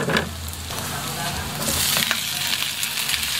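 Chopped tomatoes hitting hot oil with onions in a pan bring a loud, close, continuous sizzle and crackle that swells midway, with a faint stirring scrape and no talking.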